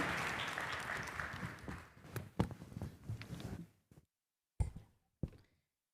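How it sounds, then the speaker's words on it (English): A conference room of people applauding panelists, clapping loudly at first and thinning into scattered claps before fading out, ending with a few last isolated claps. "Why don't we give our panelists one last round of applause?"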